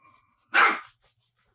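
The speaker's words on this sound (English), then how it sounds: "Oh, no barking crazies." Several dogs bark in a sudden loud burst that breaks into a run of yips and barks, sounding like indoor dogs squabbling over a spot in a house.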